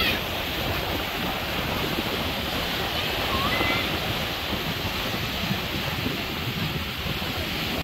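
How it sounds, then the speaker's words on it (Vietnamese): Sea waves wash steadily onto the shore at Doc Let beach in Khanh Hoa, a broad, even surf hiss with wind buffeting the microphone and no talk. "Đây là bãi biển Dốc Lết."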